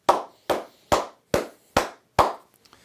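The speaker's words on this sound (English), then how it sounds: "We got to clap it up to him." Six sharp hand claps at a slow, even pace, each about half a second apart, loud and close, followed by a couple of faint taps, with no talking.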